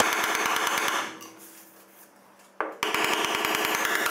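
A hammer taps out a dent in the sill of a VW Golf VI, a rapid, even series of close metallic knocks that pauses for about a second and a half, then resumes at the same quick rhythm.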